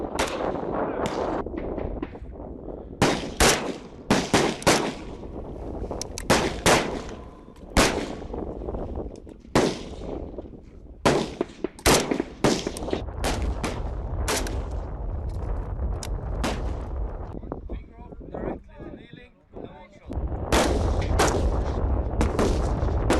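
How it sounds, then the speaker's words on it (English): Rifle gunfire rings out during prone and kneeling shooting training in the UK, with many loud, sharp shots close by. They come in irregular bursts and single reports, some in quick succession, and no one speaks. "Prone and kneeling shooting with the one shot each exposure."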